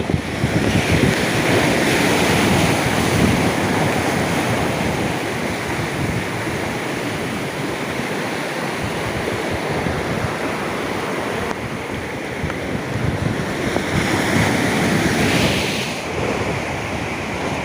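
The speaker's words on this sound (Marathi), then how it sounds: "लाटा बघा कसल्या उसळत आहेत पाण्याला भरती जोरात आहे" Sea waves surge and crash along a rocky shore at high tide during risky fishing, a loud, continuous roar of surf with wind buffeting the microphone throughout.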